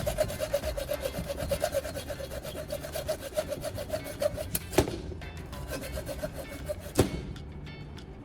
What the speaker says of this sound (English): I needed to cut a section from the lighter's plastic casing using a saw